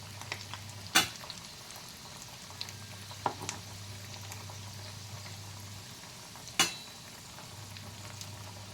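Potato patties fry in oil with a soft, steady bubbling sizzle, punctuated by a couple of sharp clinks from a utensil against the pan.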